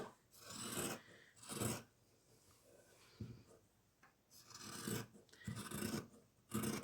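Fabric folded in four is cut by hand for a sewing project, and bursts of rasping, scraping cuts come in separate loud strokes with quiet gaps between them.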